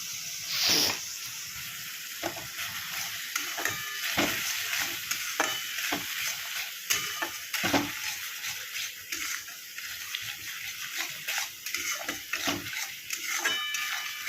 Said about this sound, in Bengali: তবে মশলাটা ভালো করে কষাতে হবে না কষালে এটা টেস্ট ভালো আসবে না